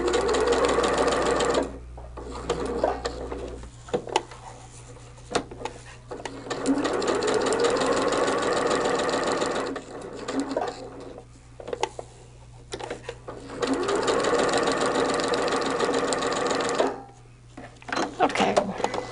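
A sewing machine runs in long steady bursts while basting a quilt, stitching for a few seconds at a time with short pauses between runs, close and fairly loud.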